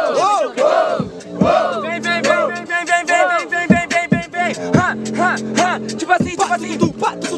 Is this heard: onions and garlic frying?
no